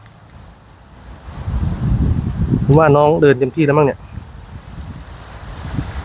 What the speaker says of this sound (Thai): ลมแรงมากเลยนะ